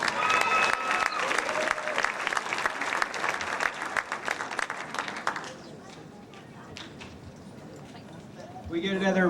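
An audience at a 2006 high school awards ceremony applauds a group of award-winning students, with dense, loud clapping that fades after several seconds into quieter scattered claps before a voice speaks at the end.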